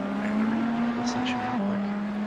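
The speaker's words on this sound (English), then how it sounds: "Alright, I'm switching off this loud ass car." A loud race car engine in the iRacing simulator, during the 24 Hours of Daytona, drones at a steady high pitch, holding one note and then stepping down briefly, while a person talks over it.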